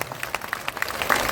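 Audience applause for Manoj Bharti at a political speech in Bihar, a short burst of dense, fairly close clapping that swells slightly toward the end.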